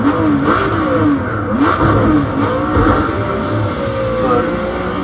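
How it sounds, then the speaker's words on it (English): Group C race car engine revving in the video game Project Cars 2, a loud continuous motor drone with rising and falling rev sweeps throughout, close and steady. "lovely sounding car."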